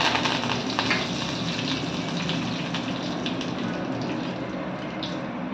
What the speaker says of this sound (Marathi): तेल आपलं चांगलं तापलेलं आहे. यामध्ये आपण अर्धा चमचा जिरे घालणार आहोत, कढीपत्ता घालणार आहोत, थोडी कोथिंबीर घालणार आहोत,